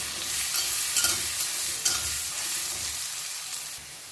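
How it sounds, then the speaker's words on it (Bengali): Potato pieces with salt and turmeric powder stir-frying in a pan, giving a steady soft sizzle with occasional scraping stirs, close and moderately loud, no talking. "আলু ভিতরে দিয়ে দিচ্ছি পরিমাণ মতো নুন পরিমাণ মতো হলুদ গুঁড়ো দিয়ে আলুটা ভালো করে ভেজে নিচ্ছি"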